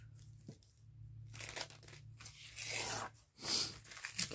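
Paper being trimmed for a handmade paper bag gives close, crisp bursts of tearing and crinkling that come in uneven spurts with short pauses between them.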